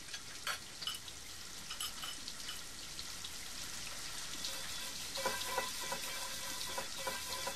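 A frying pan is scrubbed and washed with a scouring pad, giving a dense, steady hiss and splashing rasp of water and scrubbing that builds slightly over several seconds, with no talking.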